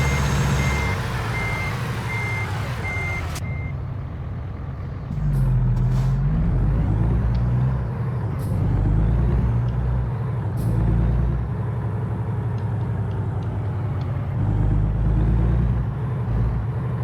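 A truck's parking brake releasing air in American Truck Simulator: steady reversing beeps over an engine drone, then a sudden cut and a sharp pneumatic hiss followed by engine rumble and scattered clicks.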